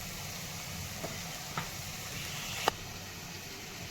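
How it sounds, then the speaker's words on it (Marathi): Cumin seeds sizzling in hot oil while Marathi dum aloo is being cooked: a steady low crackling sizzle that holds throughout, with a few brief clinks of a spoon, one sharper than the rest near the end. "तेलामध्ये ना जिरे टाकायचं राहिलं होतं जिरे टाकून घेत आहे"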